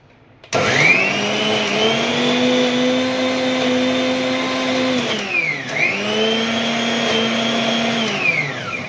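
Mixer grinder jar whirring as it blends a tangy-sweet lemon chutney, a loud steady motor drone that runs, dips briefly to a stop, then spins up again without any talk.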